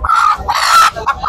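A rooster at Lalukhet bird market in Karachi crows and clucks loudly at close range in short bursts, with no talk during the calls.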